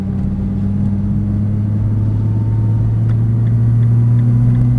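A Nissan GT-R engine droning steadily as the car drives on a track course at Dunsfold Park, loud and close with a constant low hum and a slowly rising pitch, no talk.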